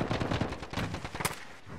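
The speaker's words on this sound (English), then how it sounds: "there's someone shooting" Rapid bursts of gunfire from a video game, sharp repeated shots in quick succession, loud and busy with dense overlapping reports.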